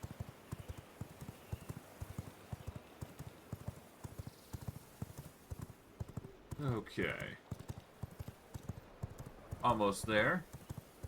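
A fast horse gallops in the video game V Rising, its steady, rapid hoofbeats running through the whole stretch, while a voice briefly speaks over them.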